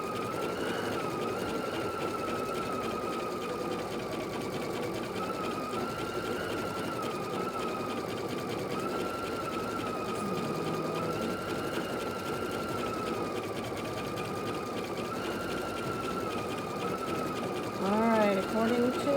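A computerized embroidery machine stitches out a gnome table topper, a fast, steady mechanical whirr and needle clatter with a constant hum, close and continuous, with someone talking over it.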